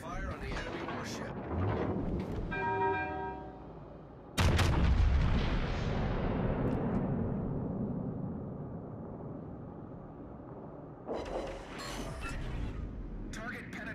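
Warship artillery fires in the naval game World of Warships: Legends. A deep, heavy salvo booms out partway through and rolls away slowly. Radio chatter and game voices run underneath, and a second burst of gunfire follows near the end.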